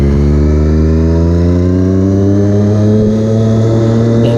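A sports motorcycle engine roars loud and close while riding, holding a steady high rev with a slowly rising pitch.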